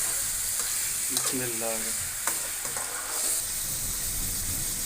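Mutton hits a hot karahi and sets off a loud, hissing sizzle with some stirring clatter; a short spoken phrase rises briefly over the frying before it settles into a steady sputter.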